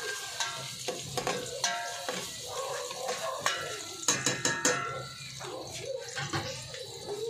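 Onions stirred while frying in a pan for a corned beef dish, a continuous sizzle with scraping and clinking of the utensil against the pan, close and moderately quiet.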